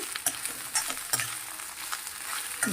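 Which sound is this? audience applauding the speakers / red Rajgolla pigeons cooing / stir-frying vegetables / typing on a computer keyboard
stir-frying vegetables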